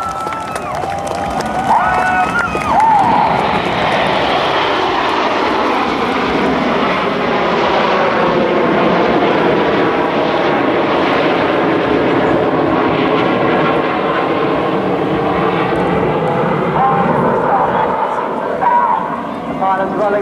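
RAF Red Arrows jets fly low in close formation at an air national guard open house, a loud, sustained roar that swells and holds for the whole stretch while an announcer talks over it and a crowd murmurs.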